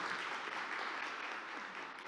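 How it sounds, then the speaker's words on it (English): Faint, steady applause from an audience at a White House mental health panel event, a continuous patter of many hands clapping at a distance with no voices standing out. "can we give another round of applause to our esteemed panelists?"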